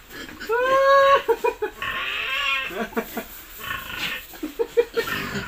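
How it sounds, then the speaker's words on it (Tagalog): Pigs being moved between pens squeal and grunt up close, with a loud drawn-out squeal followed by short irregular grunts and snorts, mixed with a person's voice. "Natutuwa ako sa mga baboy ko."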